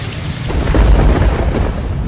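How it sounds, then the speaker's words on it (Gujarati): A thunderstorm in Kolkata with torrential rain, steady heavy downpour hiss over a deep rolling rumble of thunder that swells midway, loud and with no voices. "કોલકાતામાં ગાજવીજ સાથે ધોધમાર વરસાદ તૂટી પડ્યો"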